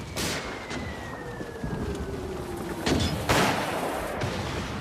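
Gunfire and shelling in a World War I Verdun battle scene: a few sharp, booming blasts stand out over a steady rumbling din, with a thin whistling tone gliding down in between.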